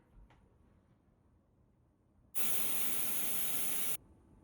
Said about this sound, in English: he said to get this spray inside this analog stick, so I'm just going to try to do that here